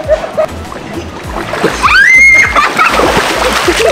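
A person splashes and thrashes in swimming pool water at a Thai seaside city, with sloshing bursts and a voice calling out over the water, loud and close.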